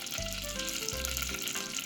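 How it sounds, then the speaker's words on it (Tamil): Mustard seeds crackle and sizzle in hot oil in a pan while a Jaffna-style spicy soya bean curry is being cooked, with a steady frying hiss throughout over a low background hum. "கடுகு போடுவோம்."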